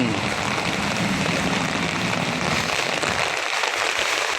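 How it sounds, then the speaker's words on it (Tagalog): A dense, steady hiss of rain falling heavily during a storm with wind and thunder, constant and close throughout, with no talking. "umuulan na naman dito may kasamang hangin at kulog"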